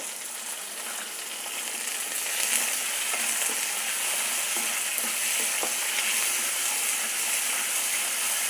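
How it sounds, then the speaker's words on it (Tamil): Onions with salt fry in a pan, a steady bright sizzling hiss that holds throughout, with a few faint stirring taps and no talk. "கொஞ்சம் வெங்காயம் வதங்கட்டும்."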